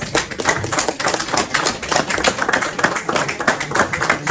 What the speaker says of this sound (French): Est-ce qu'on peut applaudir pour sa présence?